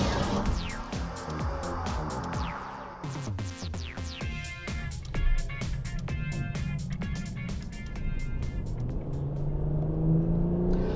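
A Lexus LC500h hybrid GT with its 3.5-liter V6 drives along as the engine note rises and falls through gear changes, a close, moderately loud whir and drone with shifting pitch sweeps throughout, and no voices.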